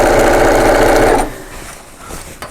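Sewing machine stitching through layers of fabric over earlier stay stitching on a channel, a loud steady mechanical whir that runs alone and stops abruptly partway, leaving a quiet room.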